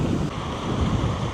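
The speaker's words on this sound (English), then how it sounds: "very windy." Strong coastal wind on the Lerwick coastal trail, Shetland Islands, buffets the microphone in a steady, roaring rush with low rumbling gusts throughout, no voices.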